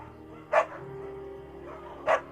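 A beagle barks in the video game Firewatch, two short separate barks about a second and a half apart, moderately near over a low ambient background.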